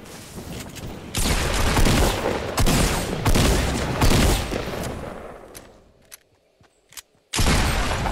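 Shotgun fire in a video game's shotguns-and-jetpacks mode comes as loud, close bursts of blasts in dense clusters, separated by a short quieter stretch with a few isolated shots before the firing resumes.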